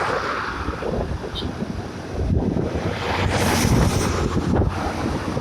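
Strong wind roars and buffets against the microphone in gusts along a road in Pangasinan, Philippines, a heavy rushing noise that surges louder midway, with faint talk underneath.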